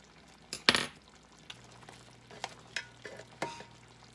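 Pork tenderloin fries in a pan under a soft background sizzle, punctuated by scattered scrapes and clinks of a utensil against the cookware, one sharp clatter standing out early.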